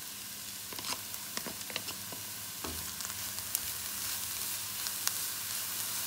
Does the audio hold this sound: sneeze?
no